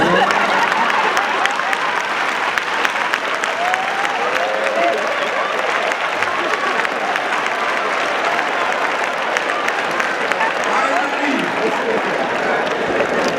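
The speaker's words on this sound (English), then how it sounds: "Then clap, man." A congregation claps at a going-home memorial service for a bishop, with sustained, even applause filling the room for over ten seconds and voices calling out within it.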